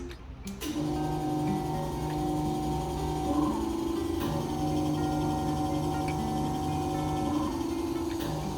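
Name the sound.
GRAHL VelaShape vacuum RF cavitation slimming machine running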